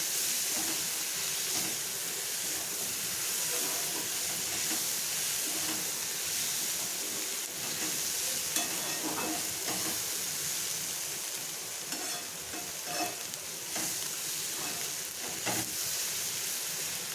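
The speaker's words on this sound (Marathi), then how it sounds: "तो टाकून आपल्याला ते परतून घ्यायचं" Dried shrimp (jawla) sautéing in a hot pan give off a continuous dense sizzle and hiss, with occasional faint stirring, steady and close throughout.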